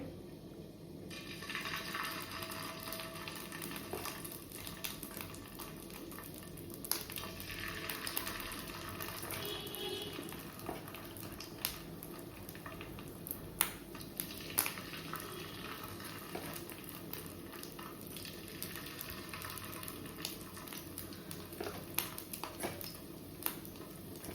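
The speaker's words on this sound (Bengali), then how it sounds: "এবার ভেজে নেব ডিমটাকে।" Fish roe fritters mixed with onion, chilli, turmeric and salt fry steadily in hot oil, a continuous close sizzle with occasional crackles and light clinks running the whole time, no voices.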